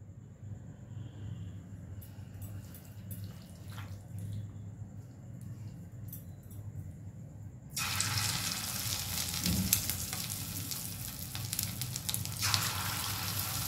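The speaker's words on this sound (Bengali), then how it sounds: "কড়াইয়ের তেলটা কিন্তু গরম হয়ে এসেছে। এবার একটা একটা করে আমি কিন্তু চিকেনগুলো দিয়ে দেবো।" A quiet kitchen hum gives way halfway through to a sudden, steady hiss of oil as chicken pieces are dropped into a hot kadai for chilli chicken, then the frying continues close and even.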